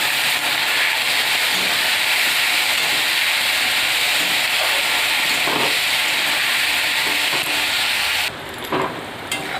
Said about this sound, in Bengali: আলু আর করলাটা পরিমাণ মতো নুন আর হলুদ গুঁড়ো দিয়ে ভেজে তুলে নেব।